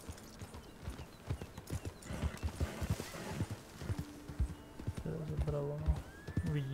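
A horse in the Red Dead Redemption 2 video game clip-clops steadily with repeated hoof beats and gives a whinny near the end, while someone talks over the game sounds throughout.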